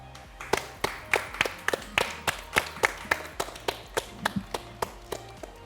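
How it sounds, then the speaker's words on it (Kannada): A group claps in a steady, even rhythm to welcome children aged 10 to 14, each clap distinct and close, repeating at a regular pace throughout. "ಅವರನ್ನು ನಮ್ಮ ಕಾರ್ಯಕ್ರಮಕ್ಕೆ ಚಪ್ಪಾಳೆಯಿಂದ ಬರಮಾಡಿಕೊಳ್ಳೋಣ"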